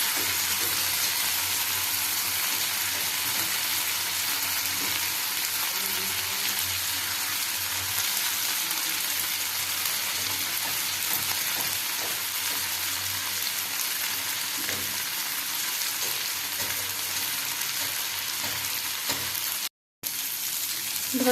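Sliced potatoes and spring onion fry in a pan with a steady, dense sizzle and crackle that keeps up unbroken and fairly loud, cut off by a brief silence near the end, with no one talking.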